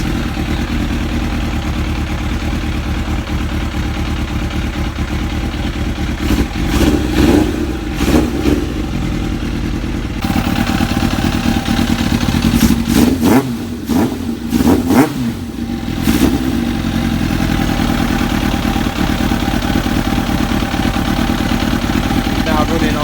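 A Kawasaki ZX7R Ninja motorcycle engine idling on all four cylinders after carburetor cleaning, a steady, close, slightly lumpy thrum with a few brief blips of revving in the middle.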